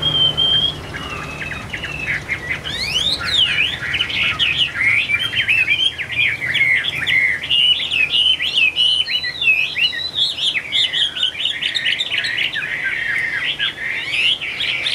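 A hwamei, the ivory-billed songbird, sings loudly and continuously up close, pouring out rapid, varied whistled phrases and sweeping trills over a steady low background hum, with no talking.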